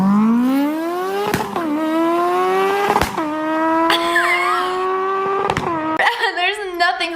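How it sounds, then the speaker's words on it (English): A loud souped-up Honda Civic engine revs and drones with rising pitch in repeated pulls, close and steady, with louder bursts near the end. "This is how dudes expect us to act to their loud cars."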